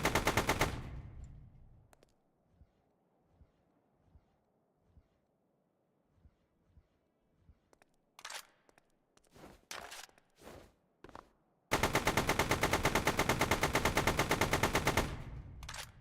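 Boxed ammunition cooking off in the StormWorks video game, a sparse run of faint pops and crackles followed by a loud, rapid sustained burst of bangs near the end.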